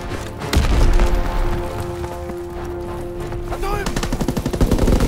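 Gunfire in Call of Duty WW2 rings out in loud, close bursts, building into rapid, rhythmic automatic fire toward the end.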